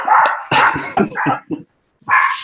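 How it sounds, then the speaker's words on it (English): A dog barks and whimpers loudly and close, in a quick run of several yelps, a pause, then one more bark. "someone's dog is not happy about this at all"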